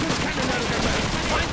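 Continuous dense gunfire in the World War II shooter Call of Duty 2, loud rapid bursts that fill the whole moment without a break.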